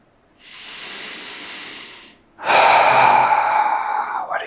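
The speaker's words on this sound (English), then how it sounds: "Breathe out and breathe in." Slow, deep breaths during a qigong exercise: a long, soft airy exhale, then a louder, fuller inhale that follows a short pause. Close by, with no other sounds.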